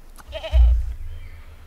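A goat in the Super Auto Pets video game gives a single short, loud cartoonish bleat with a low thump under it, heard alone without talk.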